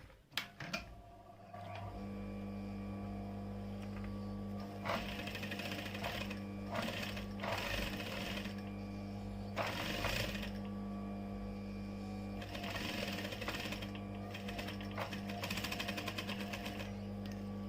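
A sewing machine runs steadily, stitching fabric closed, with a close mechanical whir and brief pauses between runs.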